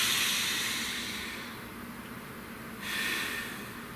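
Deep breathing, a slow loud exhale hissing off, then a fresh breath drawn in, close and alone with no talk.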